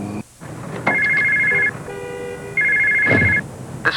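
A cell phone rings in two electronic trill bursts separated by a pause, loud and close, over faint background noise.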